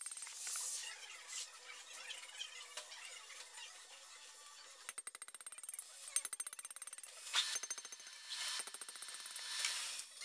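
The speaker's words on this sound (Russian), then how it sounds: "пока головка горячая, я извлекаю старые выпускные втулки, которые идут в этой головке под замену" Old exhaust valve guides are driven out of a hot Hyundai Santa Fe 2.2 diesel cylinder head, producing faint rapid metallic hammering bursts with scraping and squealing, quiet and intermittent.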